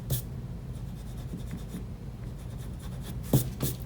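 An eraser rubs carefully back and forth over a pencil drawing of an acorn on paper, a soft close scratchy scrubbing with a couple of sharper strokes near the end.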